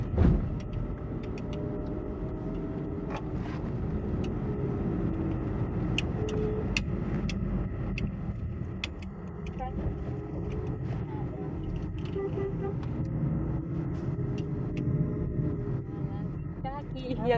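A car's steady engine and road rumble carry on throughout a drive to a filming location, with a few faint clicks and light rattles inside the cabin.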